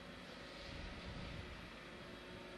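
A camera drone flies at a steady distance, its motor whine forming a continuous broadband hum with no voices.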